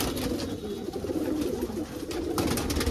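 Golden border pigeons coo in a dense, continuous low rumble, several birds murmuring together at close range with faint background clatter and no speech.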